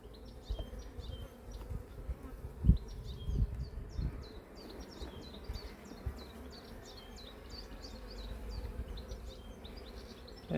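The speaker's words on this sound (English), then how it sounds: "Got some new bees in here." Bees buzz steadily around an open colony hive during an inspection, a dense, continuous hum with knocks and thumps of handling the frames and boxes, and no talk over it.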